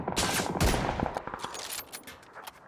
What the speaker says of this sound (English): someone's shooting me now